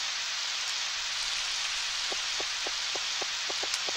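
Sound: rain falling in Harvest Moon 64 video game

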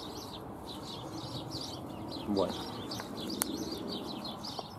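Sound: small birds chirping in spring

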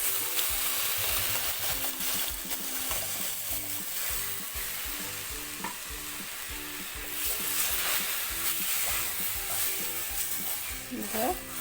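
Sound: vinegar added to hot jackfruit pickle masala, sizzling

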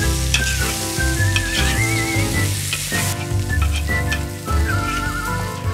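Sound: ribs and onion frying in a kazan

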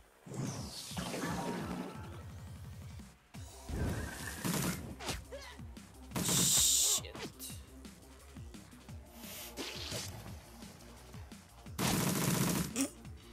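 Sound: gunfire in the video game Shadowrun

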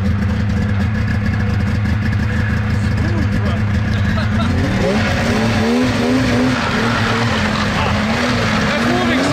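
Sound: Ski-Doo 2-stroke X3 snowmobile engine revving

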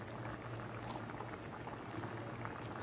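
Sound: green gram payasam boiling in milk

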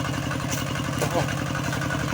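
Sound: farm tractor engine pumping water

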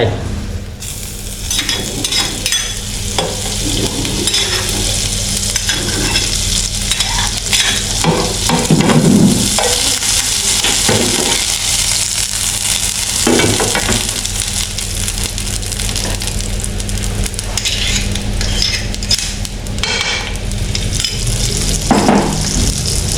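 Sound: butter sizzling as it is fried in a pan

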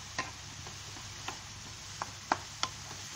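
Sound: stirring and sautéing onion, tomato, ginger, garlic with curry leaves

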